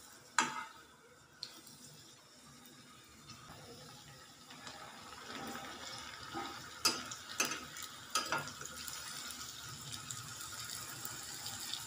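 Karjikai, sweet stuffed Karnataka pastries for the Ganesha festival, sizzling in hot oil, a continuous crackling fry with scattered sharp spatters and pops that grow busier toward the end, fairly close.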